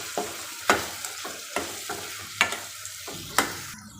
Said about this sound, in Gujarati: બધા મસાલાને શાક સાથે મિક્સ કરી લઈએ